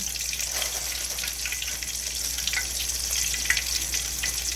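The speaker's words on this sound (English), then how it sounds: "So I've floured the pork, and now I'm just dropping it in some oil." Flour-dredged pork pieces for a stew frying in hot oil, a steady close hiss and crackle of sizzling that holds evenly throughout with no talking.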